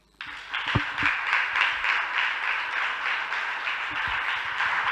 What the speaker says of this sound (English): Let's keep clapping for him.